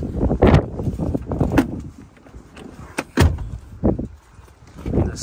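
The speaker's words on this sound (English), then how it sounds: "This is a manual slidey door." Manual sliding side door on a white 2020 Volkswagen Sharan 2.0 TDI people carrier, giving several close, loud thuds and rolling slides as it is worked open and shut, with brief clunks spaced across the clip.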